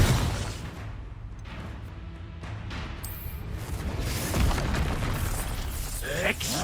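A Confringo fire spell in the game Hogwarts Legacy bursts with a dense, roaring explosive blast that swells and sustains amid other combat effects, loud and close.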